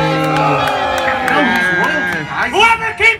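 Crowd noise at a clown showdown performance, with cheering and shouting voices that rise in uneven bursts near the end, loud and close, with people talking amid the crowd.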